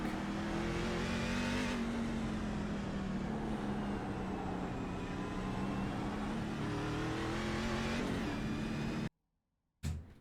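NASCAR truck lapping in a sim racing game, engine droning loud and close at steady high revs with pitch dips on shifts, then it cuts to silence before a brief return at the end.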